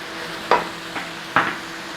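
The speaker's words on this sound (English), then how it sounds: "Stir it in." Tomato puree is stirred into mince beef frying in a pan, with three distinct scraping knocks of a spoon against the pan over a faint background sizzle.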